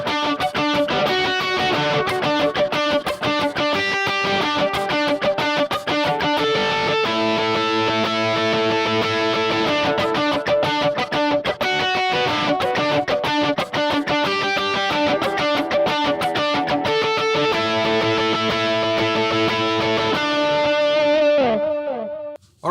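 Loud, continuous distorted electric guitar playing a rhythmic pattern with extra melodic notes layered in, sustained for a long stretch before cutting off.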